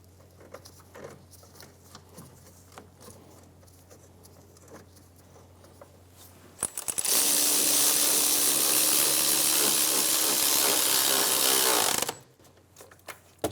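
A power tool drives the bracket bolts on the rear wheel hub assembly of a 2003-2007 Infiniti G35. After quiet handling sounds, it gives one loud, steady, high whirring burst of about five seconds, then stops abruptly.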